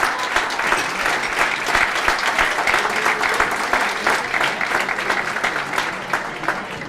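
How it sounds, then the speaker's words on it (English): Sustained, dense applause from a large audience honoring committee members at a 2012 SIBHoF induction dinner, loud and steady throughout with no break. "please stand up and give the round of applause that you so deservedly need"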